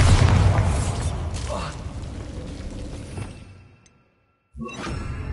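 The Bombarda spell goes off in Hogwarts Legacy as a loud booming blast with a whoosh and scattering debris. It fades into a brief silence before another burst, with a voice speaking over it.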